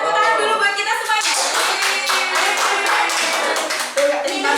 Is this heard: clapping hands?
yes